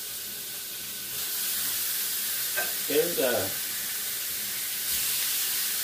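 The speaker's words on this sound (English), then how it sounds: "Sizzling, sizzling, sizzling." Steaks sizzling in hot oil in a pan over medium heat, a steady soft frying hiss throughout with a brief louder burst midway, a voice speaking briefly near the start.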